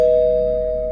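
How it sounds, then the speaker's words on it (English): A doorbell rings once within a horror story narration, a single steady electronic chime that holds for nearly a second and fades slightly, clear and close with no talk over it. "someone rang the doorbell again."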